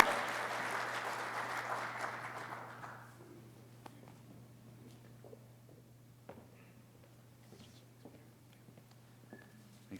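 Applause from an awards-ceremony audience at a motorsport hall of fame induction, a few seconds of clapping that quickly fades, leaving a quiet room with faint shuffles and a low steady hum.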